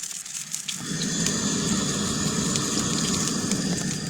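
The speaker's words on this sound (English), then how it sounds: "you can adjust that burner too if you need. That's actually pretty low, although it's throwing quite a flame" Camping stove burner flame roaring steadily during cold-weather truck camping, a soft close rushing hiss that swells after a brief quieter start and holds evenly throughout.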